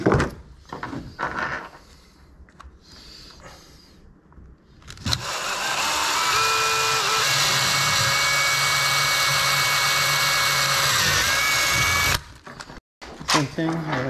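Drill boring a hole in the hull of a Pathfinder 2200 boat while fitting a washdown pump, a steady, loud whine that runs for about seven seconds after some quieter handling noises and stops abruptly.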